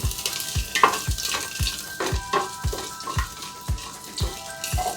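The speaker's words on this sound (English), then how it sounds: "Ginger pieces, slightly fry it for just a few seconds." Ginger pieces frying briefly in hot oil give a steady close sizzle with regular scraping stirs about every half second, no voices.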